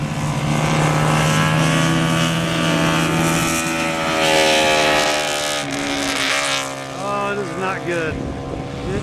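A vintage four-cylinder 350 motorcycle races at Mid Ohio Vintage Motorcycle Days, its loud, buzzing engine holding a high revving pitch before shifting and sweeping in tone as it passes close by.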